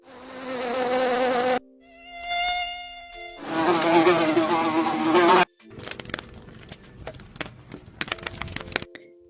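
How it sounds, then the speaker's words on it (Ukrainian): Insect buzzing in several separate bursts: a high whining mosquito, a deeper droning bee and an erratic fly buzz, each loud and close, with short gaps between. "це бджілка, комарик, мушка, метелик тріпоче крильцями"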